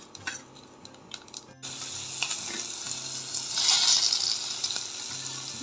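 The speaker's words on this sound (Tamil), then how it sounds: "ஆயில் விட்டுட்டு சோம்பு, ஏலக்காய், பட்டை" Fennel seeds, cardamom and cinnamon sizzle in hot oil for a Hyderabad-style paneer gravy, a steady close frying hiss that swells louder partway through.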